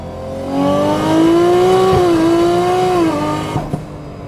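A Nissan Skyline GT-R engine with an automatic gearbox in manual mode rises in pitch and then eases back over a few seconds, a close, smooth engine note with a small click near the end.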